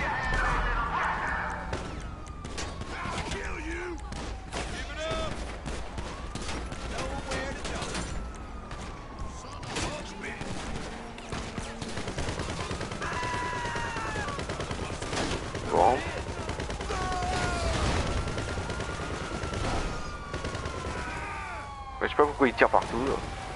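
Repeated gunfire in a busy game scene, rapid shots rattling throughout over steady background din and siren-like tones, with people talking over it.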